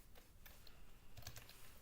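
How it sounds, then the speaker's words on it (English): Rapid, uneven typing on a computer keyboard while coding, with a steady patter of quiet, close key clicks and a few sharper strokes, and no talk. "My keyboard stuck."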